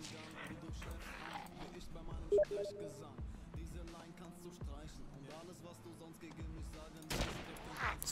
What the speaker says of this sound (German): Ich schieß gleich auf den einen.